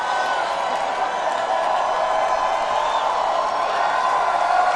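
A huge commencement crowd at Harvard University's 2010 ceremony cheers and whoops for MBA graduates, a loud, sustained and even roar of voices with no break.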